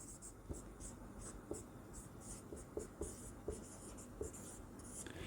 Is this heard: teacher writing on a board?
yes